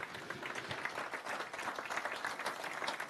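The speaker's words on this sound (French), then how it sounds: "Je vais commencer par Fanny Reyre-Ménard qui va venir nous rejoindre sur cette scène avec vos applaudissements bien entendu." Audience applause at a regional election round table as a guest comes onto the stage, steady broadband clapping throughout, fairly close and even in level.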